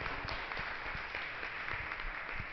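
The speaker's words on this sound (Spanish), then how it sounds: "Un aplauso, un fuerte aplauso." An audience at a talk on rock art gives a round of applause, a continuous, fairly soft patter of many hands clapping at some distance.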